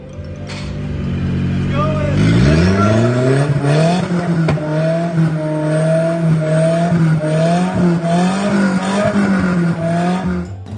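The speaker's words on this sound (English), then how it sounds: "This thing is a 3-wheel hill climb car." A three-wheel hill climb race car's engine rises into a loud, sustained rev and holds a steady, droning roar for several seconds, with faint tire noise underneath.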